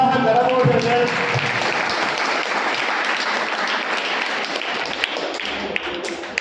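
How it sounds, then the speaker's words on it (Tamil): Dense, steady applause from a crowd at a Tamil gathering honouring a Maha Periyava trust, many hands clapping together at full volume without pause for the whole stretch. "எல்லாரும் கை தட்டலாம், உற்சாக கரகோஷங்கள்"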